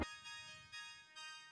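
Bottom-left layer of a four-layer digital synth pad from a keyboard rig, a quiet bell-like shimmering tone with a sharp initial attack and soft swells, brief and alone.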